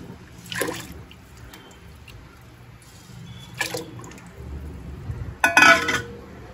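Ragi is tipped into a pot of water with splashes and clinks of a metal vessel, a few separate bursts close by.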